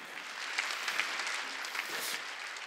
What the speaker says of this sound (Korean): 하나님이 살아계신 걸 믿으면 박수 치라요